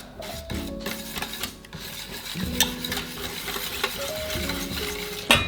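Milk and banana are mixed in a bowl, a continuous scraping and stirring with rhythmic rubbing strokes and occasional utensil clinks against the bowl, close and fairly quiet.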